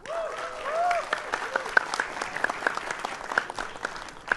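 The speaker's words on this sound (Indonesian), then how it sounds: "Jangan tepuk tangan dulu, setuju apa enggak?" A brief voice opens, then scattered claps and light applause rise from a crowd at Ganjar Pranowo's presidential campaign speech in Balikpapan. The sound is fairly quiet and uneven, with sharp individual claps popping out.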